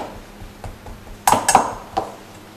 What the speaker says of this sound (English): Get a crusher and crush them.